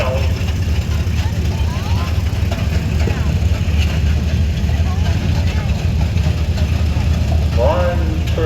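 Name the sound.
Ford 8M tractor engine idling at show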